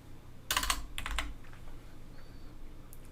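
Computer keyboard shortcuts and mouse clicks: a short cluster of crisp key presses, then another quick burst and a few faint clicks, close and fairly quiet in a calm room, with no talking.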